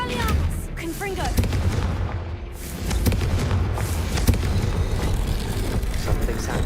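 The Confringo fire spell cast during combat in Hogwarts Legacy sets off loud booming blasts and thuds that repeat over a dense, noisy battle soundscape, with voices heard now and then.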